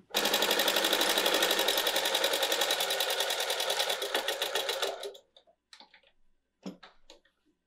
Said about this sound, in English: I'm going to stitch along the edges to close the opening